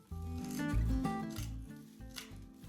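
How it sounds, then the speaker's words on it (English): Scissors snip through the bristles of a chip brush held over a trash can, giving a few close, quiet crunching cuts with rustling in between. "I'm right over top of my trash can and I just cut this off"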